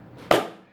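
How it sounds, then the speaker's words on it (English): A single sharp clap, close and moderately loud, with a short fading tail and faint room hiss before it. "So the clap, that's the sound of one hand clapping"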